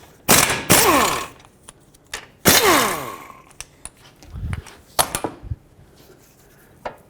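A ratchet fitted with a 17mm socket loosens nuts and a bolt during a lower ball joint job on a 2001-06 Toyota Camry, giving two loud, rapid clicking bursts followed by scattered metallic taps and clunks, close by.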